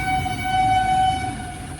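A train at a railway level crossing with the gate down, heard as a steady rumbling roar with a sustained horn-like tone running through it, loud and continuous throughout.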